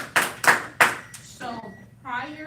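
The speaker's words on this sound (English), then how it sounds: "Applause, everybody." Applause from a class after a CPR compression demonstration: three sharp, close bursts of hand clapping, followed by a short spoken phrase and a drawn-out vocal sound.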